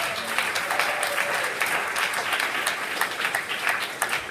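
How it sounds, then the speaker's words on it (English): An audience at a beginner sit-in school concert gives a round of applause for an administrator, a full, continuous patter of many clapping hands holding steady at a lively level from start to finish. "Give him a round of applause"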